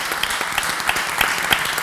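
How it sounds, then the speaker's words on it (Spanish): Audience at a round-table panel in Valencia applauds in a dense, continuous patter of clapping with a few sharper individual claps standing out. "un aplauso"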